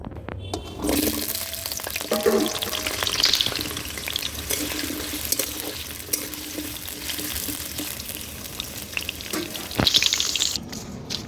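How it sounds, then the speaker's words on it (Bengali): Potatoes sizzle and crackle steadily in oil in a wok. The hiss swells briefly as the food is moved, with no talking. "তো মাছের জন্য আলুটা আগে ভাজতে বসিয়ে দিয়েছি কড়াইতে।"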